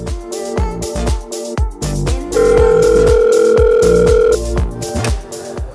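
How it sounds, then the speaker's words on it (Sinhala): A phone call placed to a kottu food delivery service: a steady ringback tone sounds for about two seconds, loud and close, over busy rhythmic background music. "ඉතින් ඔන්න මම දැන් කෝල් එකක් දෙන්න හදන්නේ ඔයගොල්ලෝ ඉන්න තැන"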